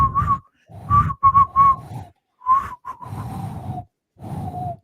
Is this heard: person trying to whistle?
yes